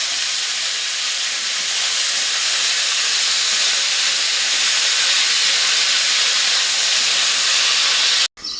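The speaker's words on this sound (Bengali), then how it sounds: "এবার লাল শাকটা আমি দিয়ে দিলাম কড়াইতে" Red amaranth greens fry in a wok after garlic is browned, giving a loud, steady hiss of sizzling oil that runs unbroken and cuts off abruptly near the end.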